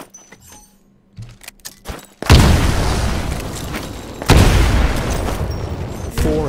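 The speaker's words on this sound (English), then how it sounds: "Throw a grenade into each of the windows." Two heavy grenade blasts in the sci-fi shooter Titanfall, the first landing after a stretch of small clicks and rattles and the second a couple of seconds later, each booming loudly and leaving a long, rumbling roar.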